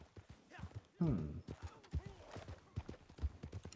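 Horse hooves clip-clop in an uneven rhythm in the video game Red Dead Online, fairly quiet, with a voice speaking over the hoofbeats.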